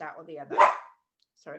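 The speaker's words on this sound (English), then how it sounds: "that's my dog." A dog lets out one sharp, fairly close bark that cuts into a person's speech during a podcast recording, with talking before the bark and resuming shortly after it.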